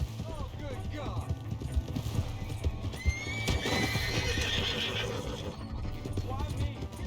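In Red Dead Redemption II, a horse whinnies and hooves clip-clop steadily on the ground, heard amid game ambience while characters shout nearby.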